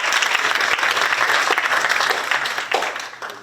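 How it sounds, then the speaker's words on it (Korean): Loud, dense audience applause at the inaugural meeting of the 22nd San Francisco council of the Korean advisory council on unification, welcoming a section chief to the podium and tapering off toward the end. "과장님을 큰 박수로 모시겠습니다."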